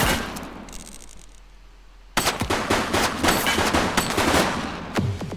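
Rapid gunfire in the video game The Precinct as a suspect opens fire, a quiet lull suddenly broken by a loud, sustained string of close shots.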